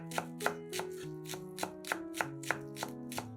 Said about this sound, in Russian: Нарезаем пучок зеленого лука.